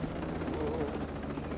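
Helicopter in the video game Ghost Recon Breakpoint, its rotor a steady droning whir that holds evenly through the whole stretch with no voices.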